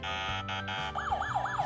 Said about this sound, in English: Police car toy.